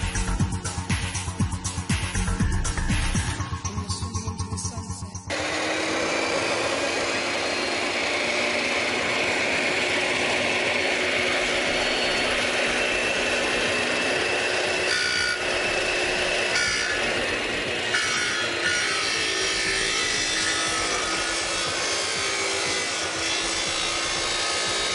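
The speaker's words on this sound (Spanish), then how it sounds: "este es un corte recto que acabamos de hacer con la máquina" A power saw cuts straight through wood: a harsher mechanical burst at the start gives way to a long, even rasping cut that continues steadily for about twenty seconds, with no talking.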